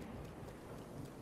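Steady rain hissing with a low rumble of thunder underneath in a video game, quiet and continuous, no voices.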